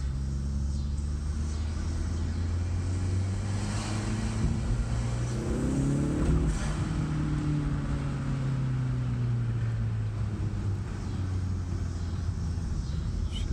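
A Hyundai Veloster Turbo fitted with an Injen intake pulls hard in second gear through a neighborhood, the engine note climbing then dropping at a shift, a steady rumbling drone heard moderately loud and alone.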